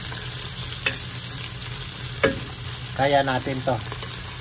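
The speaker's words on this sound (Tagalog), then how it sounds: "So iluto lang natin ng konti yung sibuyas, ha." Chopped garlic and onion sauté in a pan with a steady, close sizzling hiss, broken by a few sharp utensil clinks and scrapes; a voice briefly speaks over the cooking.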